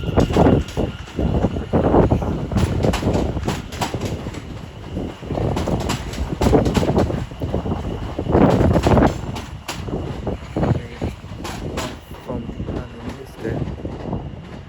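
A northbound train passes Watford Junction on the West Coast Main Line, a steady loud rumble with wheel clatter and wind buffeting throughout, while a voice talks at moments over it.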